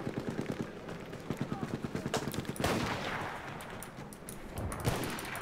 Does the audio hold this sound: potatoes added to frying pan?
no